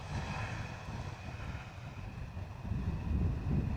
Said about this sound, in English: let's see what we can pick up of the ITA Airways dark blue. A320 Neo.